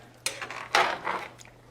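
A utensil scrapes and clatters against a pot while shrimp are stirred for a shrimp boil, in a few short, fairly close bursts with no voices.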